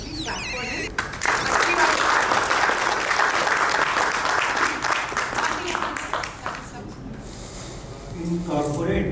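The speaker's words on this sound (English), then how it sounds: "Please clap for him" Audience applause at a leadership conference, a dense round of clapping that swells in after a brief moment of speech, stays loud and steady, then thins out as a voice starts talking again.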